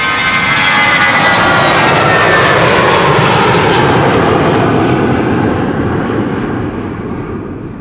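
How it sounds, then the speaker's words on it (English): An airliner's jet engines roar loud and close at Amsterdam Schiphol Airport, a broad sustained rumble that holds steady before easing off slightly near the end, with no voices. "We have Delta coming in."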